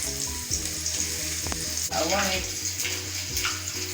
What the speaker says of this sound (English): I want it fried a bit.